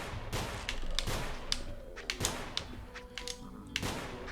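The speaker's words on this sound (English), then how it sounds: "the gunshots here are super duper loud." Loud gunfire in the video game NONGUNZ, a dense run of sharp cracks and thuds repeating irregularly over a few seconds within a busy, noisy game mix.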